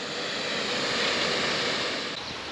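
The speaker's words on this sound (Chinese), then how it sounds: "這邊的藍沙壩形成一座小瀑布" A small waterfall at the Lansha dam pours with a constant broad rush of falling water, steady and fairly loud, with no voices.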